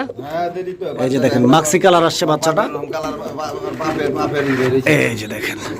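Pigeons, including a male bird and a young chick, coo in a low, rolling way close by, mostly underneath someone talking throughout.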